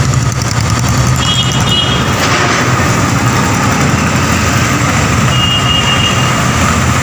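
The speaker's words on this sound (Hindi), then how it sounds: "देखिए कितना बहुत सारा ट्रैफिक है" Busy road traffic in Borivali West under a large bridge where metro construction is underway: steady loud rumble of engines with truck noise and intermittent beeps, continuous throughout, with no talking.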